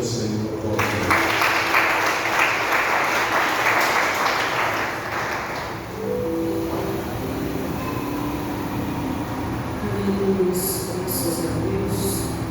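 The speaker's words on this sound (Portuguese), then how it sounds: "Você que pode aplaudir o Senhor, aplaudir." Church congregation applauding at an evening worship service, dense sustained clapping for several seconds that fades into a background hum and soft tones, fairly loud and close.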